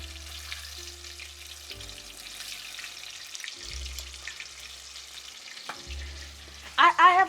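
Chicken frying in hot oil in a home kitchen, cooked for the first time: a steady, moderate sizzle with low hum underneath, ending in a couple of sharper, louder bursts of spattering.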